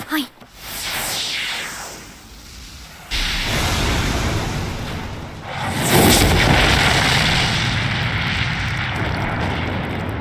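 A magic blast strikes a dragon in the Frieren anime and reflects off its scales, heard as loud booming rumbles and a sustained roaring wash with a heavy surge midway, dense and close throughout.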